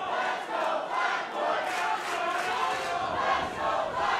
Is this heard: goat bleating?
no